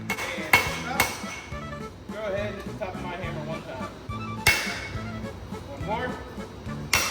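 A 2-pound hammer forges a rail spike into a dagger at a forge, with a few sharp metallic blows ringing out under steady nearby talk.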